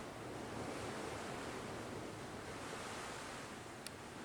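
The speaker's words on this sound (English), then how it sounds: "The wind was just a whipping." Strong wind whips across an open outdoor spot by a corn patch, a loud, unbroken broadband roar with no gusting breaks and no voices.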